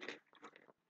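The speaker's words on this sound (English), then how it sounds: "Crunch." Crunch of biting into a snack from a Nectar and Bumble box, a few quick close crisp crunches within a second.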